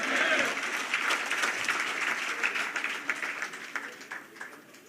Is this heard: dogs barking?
no